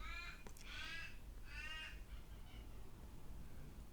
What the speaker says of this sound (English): Well, I think that was a crow outside, if you could hear that